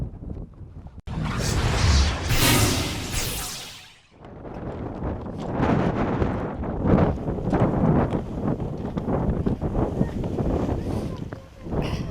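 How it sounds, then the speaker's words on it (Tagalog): Strong wind roars and buffets across a cold Korean mountainside in heavy gusts, with one sharp blast surging and then dropping away before a long, steady rush continues close against the microphone. "Ang lakas ng hangin, so baka tangayin ka dun sa kabilang side."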